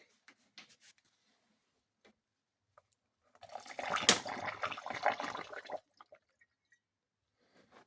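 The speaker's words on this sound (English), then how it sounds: "And then just pour it into the first cylinder." Liquid, about 100 grams of it, is poured into the first cylinder of a Volvo XC90 engine during teardown: a short trickling splash in the middle, with faint scattered drips and taps before and after in a quiet space.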